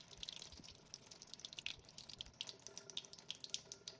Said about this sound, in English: I'm just going to give it a quick wash as well.